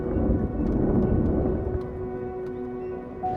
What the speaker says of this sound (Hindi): पाकिस्तान में बिलाखिर मॉनसून का आगाज़ हो गया।